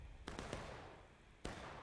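A large multiplayer video game battle gives off faint gunfire, a few sharp distant cracks scattered over about two seconds against low background noise.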